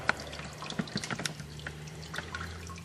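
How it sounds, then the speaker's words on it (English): Water drips and trickles during a beer brewing sparge, falling over a grain bed with scattered soft splashes at irregular intervals, quiet and close, over a low steady hum with no talking. "I've started the sparge, and you can see the water is dripping down"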